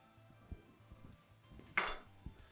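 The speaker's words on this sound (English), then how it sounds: "Give that a stir" Onions, chillies and garlic being stirred in a pot for a courgette, tomato and chilli broth, with a few light clinks and scrapes of a spoon against the pan and one brighter clatter, close and quiet.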